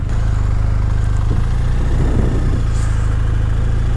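A motorcycle's engine gives a steady low rumble throughout, swelling a little as the bike rolls closer mid-way and then settling back to an even drone, with no voices over it.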